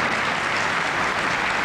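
An audience applauds at a poetry reading by Lina Kostenko, a brief burst of dense, even clapping that fills the whole moment at moderate loudness.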